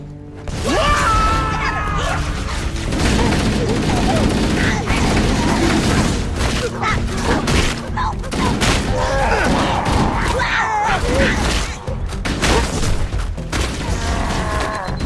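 Gunfire and booming explosions in a Halo fan film firefight aboard a ship near lifeboat airlocks, a dense, loud, continuous barrage of shots, crashes and mechanical clatter with shouting voices mixed in.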